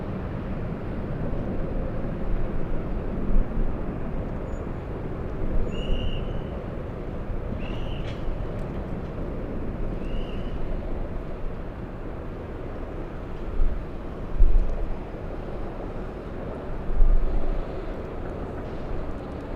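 An Embraer E175 jet at LAX airport gives off a loud, continuous low roar. The engine rumble holds steady across the whole stretch, with a few faint higher chirps above it.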